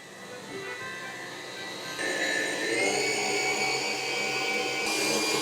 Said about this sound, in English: That then whisks up.